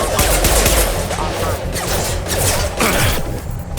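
Dense automatic gunfire from a Mass Effect 2 Legendary Edition firefight, loud and continuous bursts with rattling shots and mechanical clatter packed together for several seconds.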